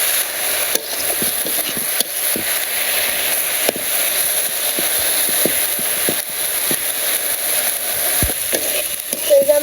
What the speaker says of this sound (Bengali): এই যে আমার শাকটা ভাজা হয়ে গেছে